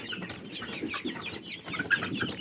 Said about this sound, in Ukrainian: Сюди я перенесла кури.